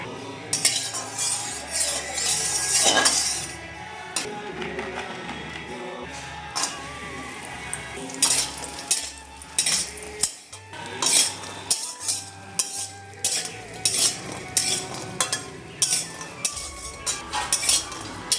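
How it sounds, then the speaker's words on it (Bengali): A metal spoon scrapes and clinks repeatedly against a wok while lentil dumplings fry in mustard oil, the stirring loud and rhythmic over a faint sizzle. "কড়াইতে দিয়ে দিচ্ছি আমি সর্ষের তেল এবারে বড়িগুলো ভেজে নেব"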